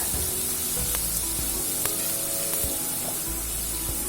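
Slit green chillies sautéing in an oil-filled pan, a steady loud sizzle and crackle with a few sharp spatters and faint stirring clinks, no voices.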